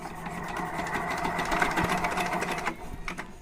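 A new tractor engine cranking and catching, a steady rattling mechanical chug close by with a brief dip near the end; faint voices are mixed in.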